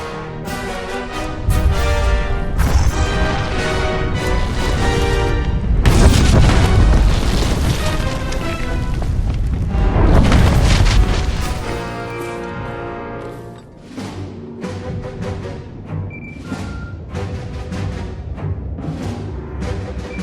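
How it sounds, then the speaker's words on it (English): A long, loud explosion in the video game Star Wars: The Old Republic, a heavy booming roar with rumbling bursts that swells, fades, then gives way to lighter debris and crackling. "SIS chatter is reporting an Imperial Intelligence operative caught in the explosion"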